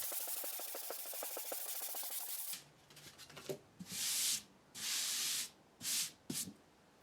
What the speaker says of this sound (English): give the remaining surfaces a light sanding to remove any dirt and grease and old varnish